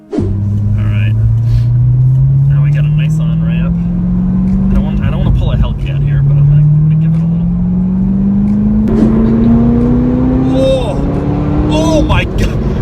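A Chevrolet Corvette ZR1 accelerating at full throttle onto a highway, its engine note climbing steadily through two long rising pulls with a brief shift between, loud and close, with voices over it.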